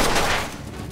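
Gunfire in the Mafia 2 action game, a single sharp burst that fades quickly.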